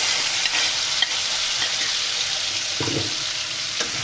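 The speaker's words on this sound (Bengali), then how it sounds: "যেন আদা আর জিরা কাঁচা গন্ধটা চলে যায় সেই পর্যন্ত আমি ভেজে নিয়েছি" Ground ginger and cumin spice paste frying in hot oil for a vegetarian radish dish: a dense, steady sizzle with a couple of faint stirring knocks, close and even, no talk.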